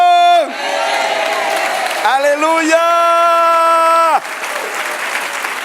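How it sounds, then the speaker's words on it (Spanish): A church congregation applauds and cheers in praise during a worship service, a steady wash of clapping beneath a loud sustained voice calling out in song-like tones. "Se ven hermosos aplaudiendo a Cristo."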